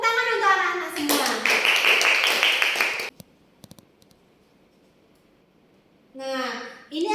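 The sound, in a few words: children clapping hands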